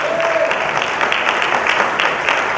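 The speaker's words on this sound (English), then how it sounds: "So can we all clap for Tajurba?" Audience applause at a business networking event speech, a dense steady wash of clapping filling the whole stretch at moderate loudness, with a faint murmur of voices underneath.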